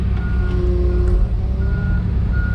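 A heavy machine idles loudly as it creeps a few feet, its reversing alarm beeping in a steady repeating pattern over the deep engine rumble.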